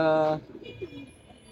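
A pigeon kept at a home loft in Bangladesh gives a short, loud, breathy coo lasting under half a second, followed by quieter low murmuring and faint background noise.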